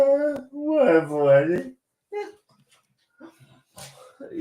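A pet dog whines and yips indoors in short, rising cries between pauses, close by, with people talking on an online show.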